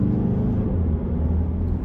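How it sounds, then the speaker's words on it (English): A Mercedes-Benz CLA 220 CDI AMG diesel engine hums with a steady low rumble as it is dropped down a couple of gears on the paddles on a back road, no voices over the drone. "if I drop using the paddle, back down a couple of gears"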